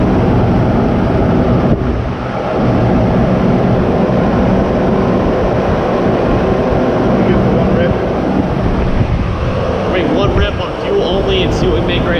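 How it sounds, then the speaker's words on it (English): A loud, steady roar of a fan in an engine workshop fills the space continuously, with a voice talking faintly beneath it. "Sorry for that loud fan."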